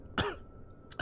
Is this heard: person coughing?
yes